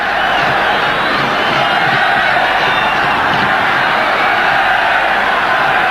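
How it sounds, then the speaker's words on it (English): A packed stadium crowd roars in steady support of Zambia at a 1994 African Cup of Nations match against Nigeria, a dense, continuous wall of voices close and loud throughout. "Now the crowd roaring Zambia on."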